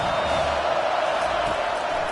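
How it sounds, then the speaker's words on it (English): Football stadium crowd roaring on a third-down defensive stand, a dense, steady wall of cheering and whooping that stays loud and unbroken throughout. "Decibels rising as the crowd gets behind this defense on third down."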